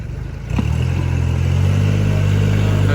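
Heavy farm tractor engine labouring in sticky, rain-soaked mud, a steady loud low drone that rises in pitch and strength partway through as the engine strains harder, with some clatter, no voices.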